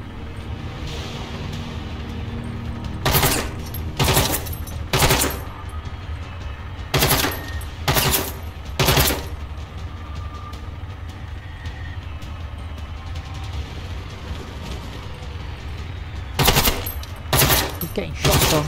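SMG gunfire in the shooter game GenZ comes in several short automatic bursts, loud and rattling, separated by stretches of low ambient rumble.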